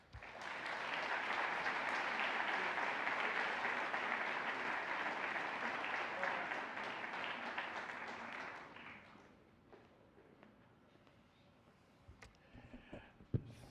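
An audience at a political lecture event breaks into sustained applause to welcome Dr. Charles Kesler, loud and steady for about nine seconds before thinning to a few scattered claps and quiet room noise.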